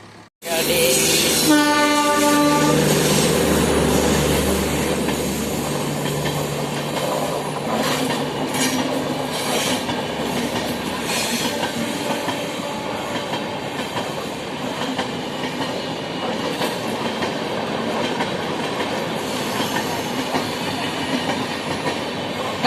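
A train passes by in the Bhavnagar area, loud and close from the start, with a horn blast near the beginning and a steady rumble and clatter of wheels that continues throughout without pause.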